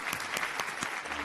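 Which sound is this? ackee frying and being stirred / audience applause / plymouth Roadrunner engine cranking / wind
audience applause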